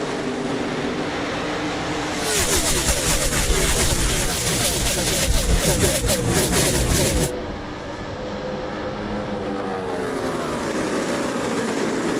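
NASCAR stock cars roaring up to speed at the start of the final race of the 2016 season, a loud dense engine roar that swells as the pack passes and then fades back, with commentary running underneath.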